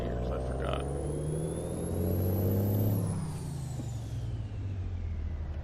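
A heavy truck hauling 61,200 pounds in American Truck Simulator revs and rumbles steadily while skipping gears, with a high whine rising then falling as the engine pulls, heard close and alone.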